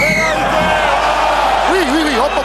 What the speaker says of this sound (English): Listen to the crowd, they love watching Henry Tuilagi go on a charge.